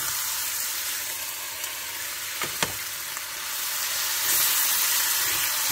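Steady sizzling hiss of cooking oil heating in an overly hot frying pan, fairly close and continuous, with a few faint clinks partway through and the sizzle growing slightly louder toward the end.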